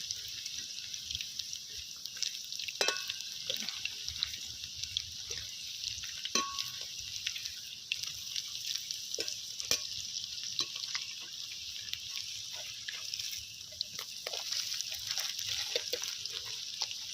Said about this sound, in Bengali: পকোড়াগুলো একদিকে হালকা ভাজা হয়ে গেছে, এবার আমি উল্টে দেবো।